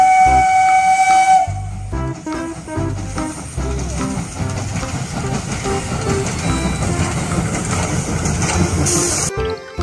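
A toy train sounds a loud whistle tone, then plays a busy, rhythmic run of electronic chugging and jingling sounds that carries on to the end, with no talking.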